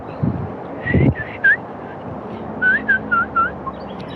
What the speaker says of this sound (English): It's whistling, but it's just very airy